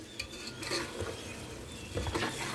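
Chicken nihari masala fries and gets stirred in a pot, with a steady sizzle and the scrape and clink of a utensil against the pan, louder stirring bursts near the end.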